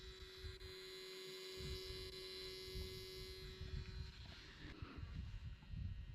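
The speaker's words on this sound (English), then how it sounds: "It is making that annoying buzz hum sound" A satellite internet dish gives off a steady electrical buzzing hum close by, constant and tonal, with some low rumbling noise underneath and no talking.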